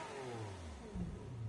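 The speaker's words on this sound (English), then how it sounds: "Love the sound of the V12." Lamborghini V12 revving in Gran Turismo 7, a raw race car build, with rising and falling engine harmonics sweeping through one loud, close rev that drops and then picks up again, no talk over it.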